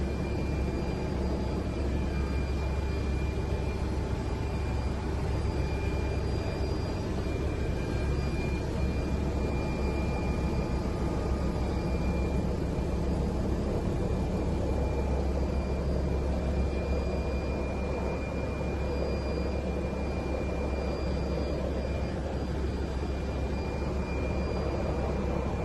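A drone flies overhead with a helicopter-like drone, a constant broad roar with steady whining tones holding evenly throughout, moderately loud and unbroken, with no voices.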